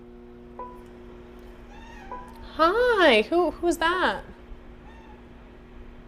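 A house cat meows several times in a quick, close burst of rising and falling cries. A person speaks briefly just before it, over a quiet indoor background.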